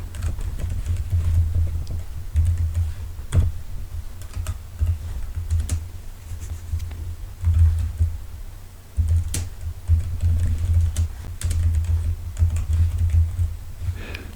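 Irregular clicking on a computer keyboard runs under a persistent low hum and background noise, with scattered sharper key taps spread across the clip.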